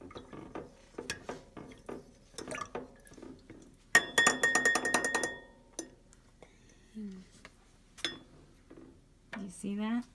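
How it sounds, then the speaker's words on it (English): A spoon shaking and swirling water in a glass container gives light clinks and chinks in scattered bursts, with one dense rattling flurry midway, while a nearby voice talks softly in between. "So I shake it with the spoon."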